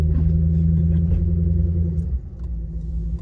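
A Mad Max style car on a daily commute rumbles with a deep, loud engine note, idling heavily and then dipping slightly as it drives, close and alone without talk.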